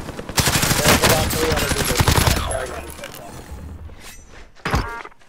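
A burst of rapid automatic gunfire from an MP5 mixed with heavy high-caliber shots in a shooter video game, loud and dense at first, then thinning out to a final sharp report.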